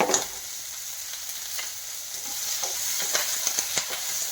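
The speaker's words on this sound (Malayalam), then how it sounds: "അപ്പം ഒന്നിച്ചൊന്ന് വാട്ടിയെടുക്കണം" Ginger, green chilli and onion sauté together in a hot pan for masala dosa filling. A steady bright sizzle runs throughout, punctuated by soft scraping clicks of stirring.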